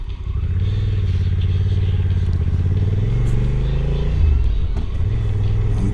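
Motorcycles heading to a rally ride past on a scenic road, a loud, continuous engine drone that rises and shifts in pitch as the bikes pass close by.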